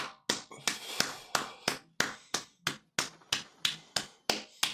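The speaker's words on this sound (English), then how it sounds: "I can clap for that." A steady run of sharp claps at an even, slightly quick pace, about a dozen in a row, close and loud with nothing else heard.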